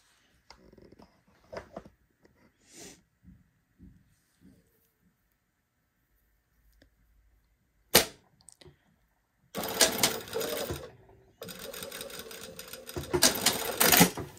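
Light handling taps and clicks lead into a sewing machine running fast while stitching bias tape diagonally, two loud buzzing bursts of rapid needle strokes separated by a brief pause.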